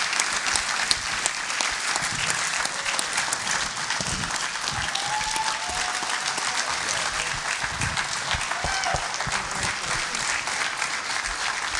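A large audience applauds the inductees at the West Texas Hall of Champions induction ceremony, with steady, dense clapping filling the hall for the full stretch without letup.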